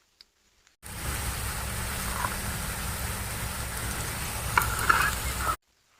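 Telangana sarvappa flatbreads fry in oil in a pan with a steady, close sizzle and crackle that starts abruptly, holds evenly for several seconds with a few brighter pops near the end, then cuts off.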